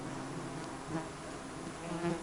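Mosquito buzzing close in a forest, a thin continuous whine over a low hum that swells briefly twice, with no voices.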